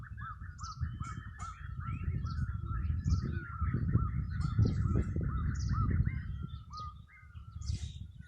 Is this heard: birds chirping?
yes